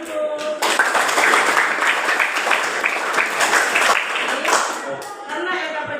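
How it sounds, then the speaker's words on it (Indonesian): A classroom of students bursts into applause during a geography lesson, dense clapping sustained for several seconds before tapering, with a few voices mixed in near the end. "Tepuk tangan dulu."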